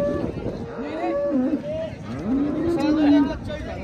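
A young buffalo at the Ghodegaon buffalo market lows several times in deep, drawn-out moos, close and loud, with people talking nearby.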